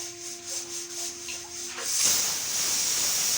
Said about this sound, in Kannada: ನೋಡಿ, ಕುಕ್ಕರ್ ವಿಸಿಲ್ ಬಂತು.